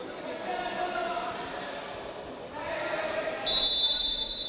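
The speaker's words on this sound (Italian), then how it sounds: "Il fischio, il direttore di gara" A referee's shrill whistle blasts near the end of a moment of Serie A futsal play between Lido and Real Rieti, rising above crowd noise and continuous commentary.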